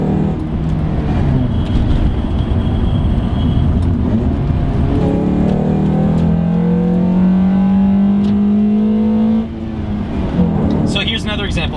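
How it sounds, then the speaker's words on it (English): A car accelerates hard out of a turn after a heel-toe downshift, its engine droning loud and steady with a rising pitch, while a voice talks over it throughout. "As soon as you do that, you can floor it and accelerate out of the turn."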